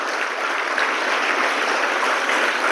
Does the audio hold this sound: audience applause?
yes